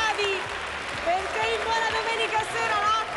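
Studio audience at an Italian Sunday TV variety show applauds continuously while a presenter keeps talking loudly over the clapping.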